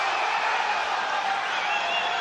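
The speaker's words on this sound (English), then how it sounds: "Crowd getting into it now." Boxing arena crowd at a heavyweight fight between Derek Chisora and Malik Scott, a dense, steady roar of cheering and shouting that fills the whole stretch at constant loudness.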